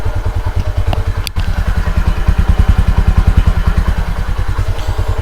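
A motorcycle engine idles close by after a mileage adjustment, running smooth and steady with an even, rapid exhaust pulse and a brief clatter early on, heard alone without talk.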